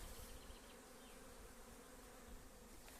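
Dense, continuous buzzing of many honey bees around a hive, a steady hum filling the air with no talking.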